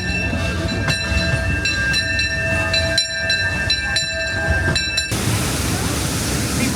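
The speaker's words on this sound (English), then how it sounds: "Trains arriving every 5 minutes." A Disneyland train rumbles at the Tomorrowland station during the Christmas season, with steady rolling noise, rhythmic clanks and sustained tonal whistles, ending in a broad hiss of noise.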